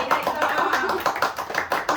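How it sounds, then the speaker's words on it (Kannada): A small group of cousins claps at a bachelorette party, brisk close handclaps in an uneven stream with people talking and calling out over them. "ಸಾವಿರ ಸಾವಿರ ಚಪ್ಪಾಳೆ"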